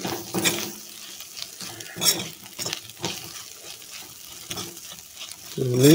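Dried fish sizzles and fries in a pan with turmeric and spices while being stirred, with steady scraping strokes over a continuous crackle, growing louder near the end.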